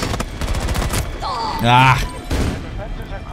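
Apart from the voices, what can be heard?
shotgun fire in a video game firefight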